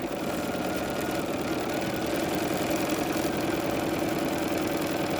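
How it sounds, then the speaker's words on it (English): A sewing machine stitches along a marked line on a quilt block, with a steady, close motor whir and fast, even stitching pulses running throughout, no voices. "we're going to sew right on our line"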